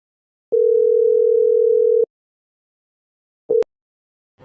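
A telephone ringback tone heard while placing a call: one long, steady, clean tone of about a second and a half, then a short repeat after a pause, alone in silence.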